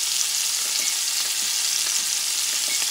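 Venison steaks frying in a pan give a steady, close, hissing sizzle with faint crackles and pops scattered throughout, no voices.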